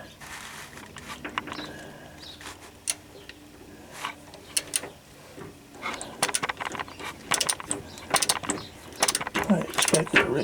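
Wrench turning a bolt during torque converter reassembly in a car's engine bay, heard as irregular metallic clicks and knocks that grow busier toward the end, close up, with some talk mixed in.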